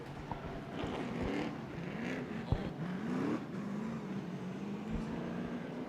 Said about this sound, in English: Couple cars spinning here on the racetrack, possibly some fluids going down.